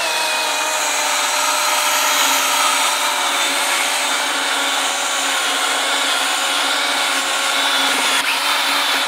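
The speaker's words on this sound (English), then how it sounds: "pushing down on this drill bit like this" A power drill drives a bit into a beekeeping hive surface to encourage propolis, a loud, continuous high-pitched whine with grinding texture that holds steady throughout, with no voices.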